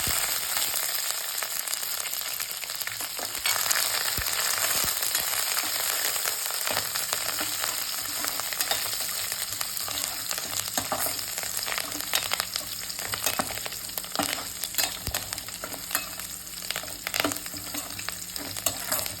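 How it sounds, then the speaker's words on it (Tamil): Crushed garlic and curry leaves frying in hot oil for dried anchovy fry, a steady loud sizzle with occasional stirring scrapes throughout, no voices. "கருவேப்பிலை இடிச்சு வச்ச பூண்டை போட்டுக்கணும்."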